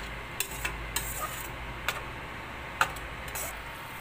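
Spoon scraping and tapping against a pan while tomato paste and ground masala are stirred for a South Indian mushroom gravy, giving scattered light clinks and ticks over a quiet, steady background.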